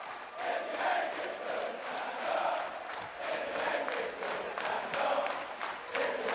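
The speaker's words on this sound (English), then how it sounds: "just listen to this crowd" A wrestling arena crowd at a WWE UK Championship Tournament match, a constant loud roar of many voices with swelling cheers throughout, no single voice standing out.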